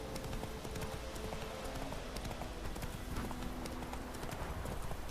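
Steady clip-clop of hooves from a horse in The Witcher 3, rhythmic and continuous, with a low background hum throughout.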